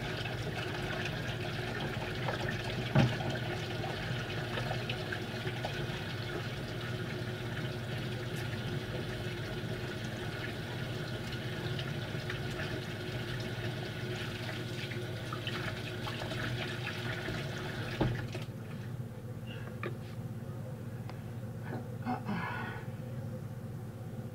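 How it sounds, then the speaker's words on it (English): Hands being washed under a running hot-water tap, a steady rushing stream that continues throughout, with a slight change in flow and a few knocks near the end. "first thing I do is wash my hands really good with hot water"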